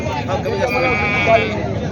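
A goat bleats loudly and steadily at a large goat and sheep market in Maharashtra, its wavering cry running through the whole moment with background voices faintly underneath.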